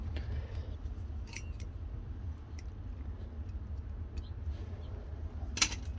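Scissors snipping the roots of a large Crassula bonsai, several sharp close clicks scattered over a few seconds, with one louder snip near the end, over a low steady background hum and no talking.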